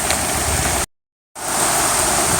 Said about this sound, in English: And it's actually raining even harder right now.